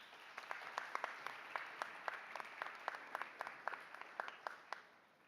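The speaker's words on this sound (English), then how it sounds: "Please, a round of applause again." Applause for delegations at a Model United Nations opening ceremony in a general assembly hall, a steady moderate roar of many hands with distinct individual claps standing out, continuous throughout.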